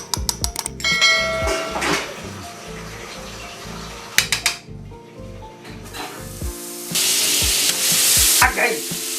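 Shrimp with chili flakes and pepper powder stir-fried in a pan, loud sizzling with repeated scraping strokes of the utensil, rising to a strong hiss near the end.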